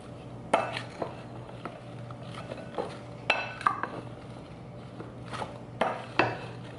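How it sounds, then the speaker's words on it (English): A spoon scrapes and clinks against a bowl while mixing onions with seasoning salt and black pepper, with several distinct sharp clinks spread over a steady low hum. "I'm just gonna take a spoon and kind of mix this all around"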